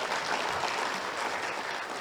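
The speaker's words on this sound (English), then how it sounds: "A better round of applause." Dense, steady applause from a conference audience after a leadership talk, loud and continuous throughout with no voices.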